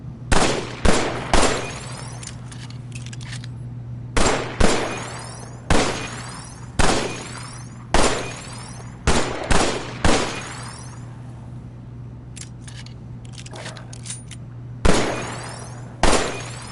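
Gunfire in the Killing Floor PSVR shooter at the farmhouse: sharp loud single shots and short rapid bursts, spaced irregularly over a steady low hum, with quiet gaps between volleys.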